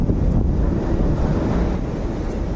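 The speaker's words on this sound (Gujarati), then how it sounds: "આજ તો પવન બહુ છે" Strong wind buffets the microphone outdoors in a village on a cold day, a steady loud broadband roar with gusty swells and no voices.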